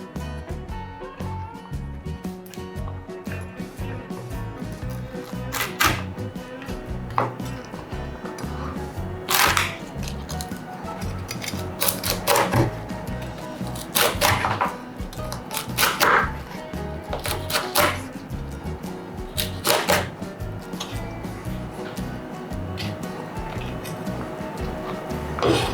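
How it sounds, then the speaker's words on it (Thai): A knife chops through crispy Thai pork belly with sharp, irregular crunching cuts, some loud and others lighter. Between the strikes a lower background of movement continues. "เดี๋ยววิลเลียมจะหั่นหมูกรอบและใส่จานพร้อมเสิร์ฟ"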